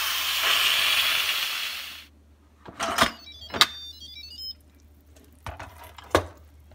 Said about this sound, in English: I'm going to go ahead and finish out the steam.